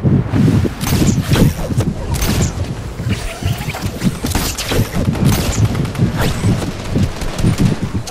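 Fortnite gunfire crackles in dense, rapid bursts of shots and impacts, loud and close, with busy game action throughout.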